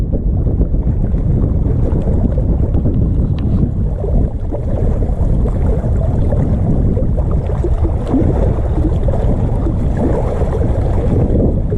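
Strong wind buffets the microphone beside a pond while fishing, producing a loud, continuous low rumble with gusty surges and no voices.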